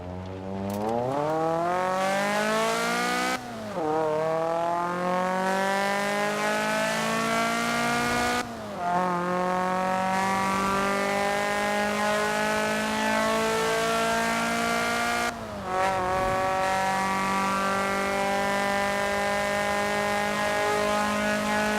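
Car engine in Forza Horizon 4 pulling hard through the gears, a loud, steady rising whine broken by three distinct gear shifts, with no voices over it.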